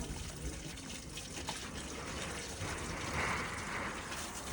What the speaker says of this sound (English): Turn the tap on and just clean the inside of the tank.